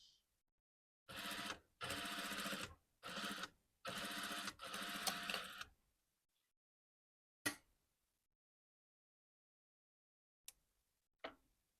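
A sewing machine stitches corset fabric close to the edge in several short, close bursts of rapid mechanical whirring, then stops, leaving silence broken by a few isolated clicks.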